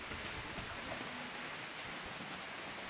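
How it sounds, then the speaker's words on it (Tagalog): Steady heavy rain hisses beside a highway among tall trees, a dense, even wash of noise that fills the whole clip with no voices. "abutan na kami ng ulan"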